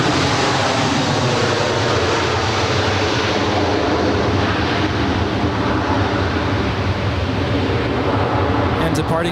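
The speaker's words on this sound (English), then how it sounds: "It's a 20-year-old Airbus A320." A 20-year-old Delta Airbus A320 arriving at Los Angeles airport from Dallas Fort Worth gives a loud, sustained broadband engine roar, steady and close throughout.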